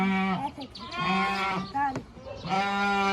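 A flock of sheep and goats bleats close by, with several long, wavering calls one after another, loud and overlapping, and a person talking in between.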